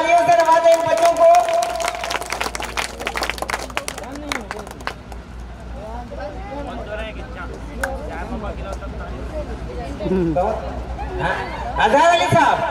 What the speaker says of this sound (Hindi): जोरदार तालियों से नवाजे इन बच्चों को।